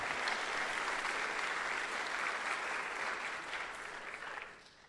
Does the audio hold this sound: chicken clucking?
no